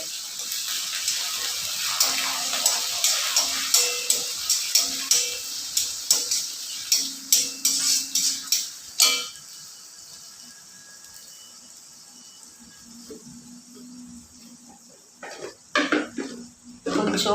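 Onions and curry leaves are stirred in a pan while cooking, giving a quick series of metallic scrapes and clinks against a background sizzle, then a quieter stretch and a few final knocks.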